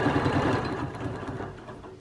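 A sewing machine stitches straight quilting lines across a quilt, its needle running in a steady rapid mechanical rhythm, close and fairly loud throughout with no talking.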